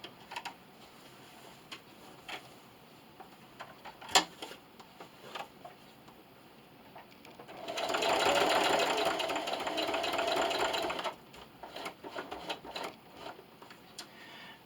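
A sewing machine travel-stitches along thread on a fabric plastic bag dispenser, running steadily for a few seconds before stopping with the needle down, surrounded by quiet clicks and handling sounds.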